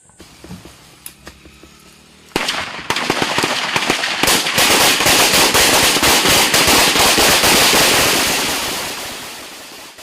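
Heavy gunfire during a night military ambush: a few scattered shots, then a sudden, dense, loud barrage of rapid cracks sustained for several seconds before tapering slightly.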